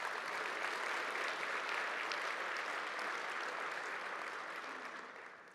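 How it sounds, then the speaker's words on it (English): At the SaltConf17 opening keynote, a conference audience gives a round of applause, a broad, continuous wash of clapping that holds steady and then fades near the end. "So let's give everybody a round of applause for their contributions."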